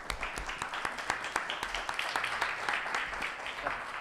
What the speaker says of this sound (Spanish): Bueno, Martín, un aplauso.